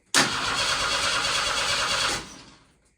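Running after the choke is switched off and back on, an engine catches abruptly and runs at an even, loud roar for about two seconds, then dies away quickly. No voices are heard.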